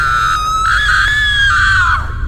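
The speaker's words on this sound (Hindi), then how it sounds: "तभी सामने से चीखने चिल्लाने की आवाज एक बार फिर से आने लगती है।" A high, sustained scream rises and holds for about two seconds, loud and piercing, tailing off sharply at the end.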